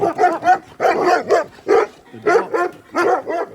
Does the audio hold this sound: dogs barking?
yes